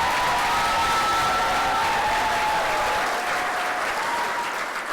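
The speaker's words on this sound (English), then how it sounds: "I ask you please to give her a round of applause." An audience at an event gives sustained, dense applause that stays loud and steady for five seconds before easing slightly near the end; no one speaks.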